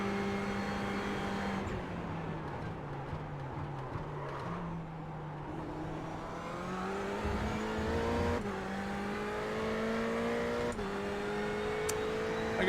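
Race cars in an iRacing practice session rev, shift gears and hold sustained high engine notes with rising pitch sweeps, while other cars pass nearby. The sound is steady and moderately loud, with no voices.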